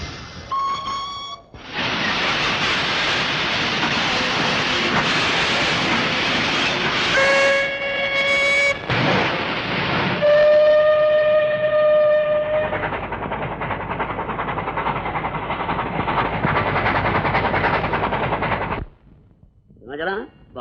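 A passenger train runs with a loud, continuous rumble and clatter, broken by several sustained horn blasts. The noise drops away suddenly near the end.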